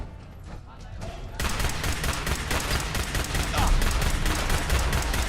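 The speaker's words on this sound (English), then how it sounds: "We need to switch to the laser pistol." Laser pistol fire during a Fallout 4 firefight, a dense rapid string of loud crackling shots that kicks in after a quieter first second and keeps going steadily amid game noise.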